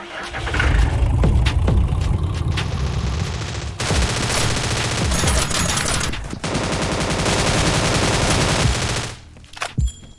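Gunfire in the mobile battle royale game Scarfall rings out in loud, rapid automatic bursts that run almost without a break for several seconds before stopping abruptly, with a few scattered shots at the end.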